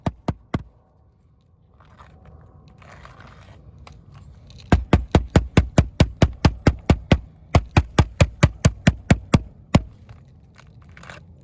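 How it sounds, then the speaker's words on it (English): Sharp knocks of a rubber mallet on a roof: a few at first, then a steady rapid run of evenly spaced taps, fairly close and loud, with no talking. "To locate rafters on the roof we're using rubber mallet,"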